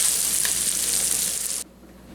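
Sausage and onions sizzle in a pan with a bright, steady frying hiss that cuts off abruptly near the end, leaving near silence.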